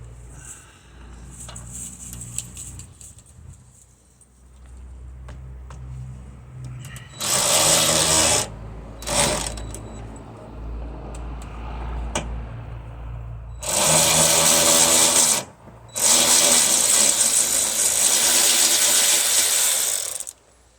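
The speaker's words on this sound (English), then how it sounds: "now I'm going to take off the fan" Power tool removing radiator fan bolts on a 2010 GMC Sierra, heard as loud close bursts of rapid whirring separated by pauses, with quieter clinks and handling noises in between.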